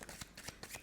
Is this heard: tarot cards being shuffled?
yes